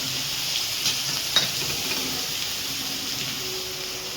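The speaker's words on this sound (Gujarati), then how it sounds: "અને લસણ ને ડુંગળી આપણે એક સાથે ચડવા દઈશું તો તેલમાં" Cumin seeds, onion and garlic frying together in hot oil crackle and sizzle in a steady close hiss, with a faint stir or two and no voices.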